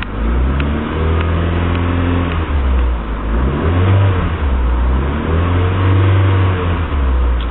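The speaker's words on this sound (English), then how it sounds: "Now it's a sports car, it will rev a bit higher than the last two." Sports car engine revving, loud and close, rising and falling in repeated pulls with a deep droning tone throughout, no voices over it.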